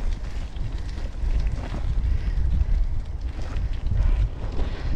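Strong headwind buffets the microphone while cycling slightly uphill on a cheap Decathlon bike, a steady low roaring rumble with gusty swells that stays loud throughout, no one speaking.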